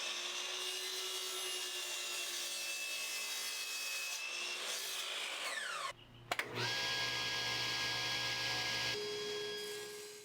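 Small exotic wood blanks go through a jointer, table saw and drum sander in a workshop, a loud, steady machine whine that drops briefly mid-way, then resumes with a new pitch and a lower rumble.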